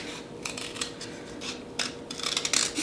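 Scissors snip through black paper or cardboard in a quiet room, giving several soft crisp cuts with short gaps that grow louder and quicker toward the end.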